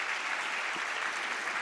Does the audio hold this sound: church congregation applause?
yes